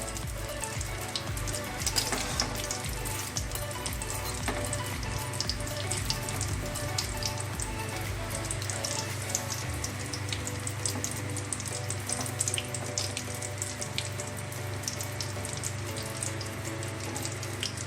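Deviled eggs frying slowly in a pan over low heat, a steady soft sizzle with faint crackles running throughout, fairly quiet and close, with no voices.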